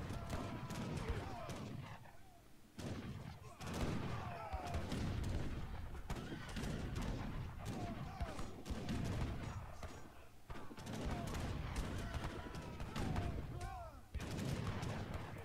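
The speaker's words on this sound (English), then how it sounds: "These heavy cannons not doing too bad for Mongo." Heavy cannons firing in a deathmatch battle in Age of Empires III, a dense barrage of booming shots and gunfire with clashing battle noise, rapid and continuous throughout.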